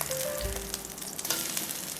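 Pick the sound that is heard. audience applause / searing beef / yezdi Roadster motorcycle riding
searing beef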